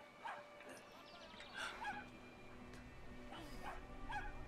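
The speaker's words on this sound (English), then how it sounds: "Yeah, that is a terrifying dog." In the video game Brothers: A Tale of Two Sons, a dog gives scattered small yips and whimpering barks, faint and distant within quiet background ambience.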